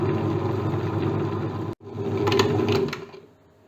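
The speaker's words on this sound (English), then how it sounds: "So we'll allow the rice to grind." A wet grinder grinds rice for idli and dosa batter with a steady, close mechanical whir that cuts out briefly, then resumes before fading.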